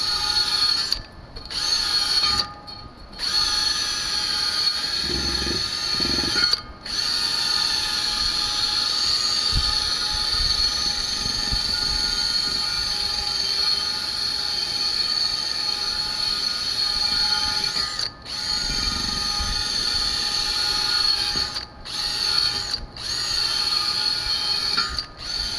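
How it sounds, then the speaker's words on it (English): Electric drill driving a wire wheel to clean a Jeep M715 wheel rim, a continuous loud high-pitched whirring scrape held for long stretches, broken by a few brief stops and restarts, with no talk. "Alright, I got a drill and wire wheel."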